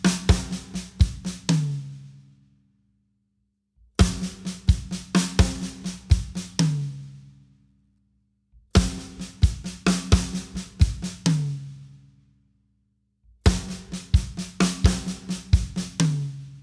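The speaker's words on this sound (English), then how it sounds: "here's how the first and second beats would sound together." A drum kit plays the first two beats of a triplet fill four times over, each a quick run of tom and snare hits ending in a ringing crash, then a brief silence before the next pass.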